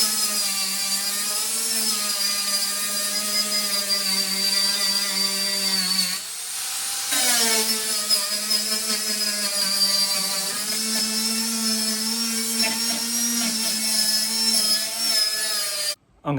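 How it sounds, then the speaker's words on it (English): An angle grinder fitted with a sanding disc works over rusted body panels on a Subaru Brumby, giving a loud, steady high whine with a brief dip midway where the tool eases off before resuming. "I'm going to keep going with the angle grinder now with the sanding disc on it"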